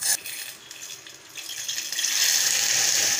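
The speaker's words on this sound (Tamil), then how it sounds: "தண்ணி நல்லா கொதிக்குது" Water heating for kozhukattai dough in a pot, rising from a thin hiss into a steady bright bubbling rush that grows louder and fuller toward the end.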